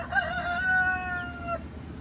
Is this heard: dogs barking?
no